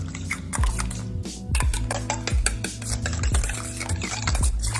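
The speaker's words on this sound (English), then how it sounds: "Then we just whisk that up." Homemade cocktail sauce is whisked briskly in a bowl, a continuous rhythm of close, clattering scrapes and taps against the sides.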